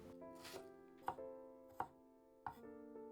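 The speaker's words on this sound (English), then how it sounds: "At last, I chop down through the onion into small dices." A knife chops down through an onion into small dice on a cutting board: four crisp, close knocks at uneven intervals in a quiet kitchen.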